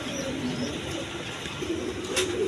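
A pair of coloured Golla pigeons, a hen and a cock, coo softly and steadily at close range, their low throaty calls running through a faint hum of background noise.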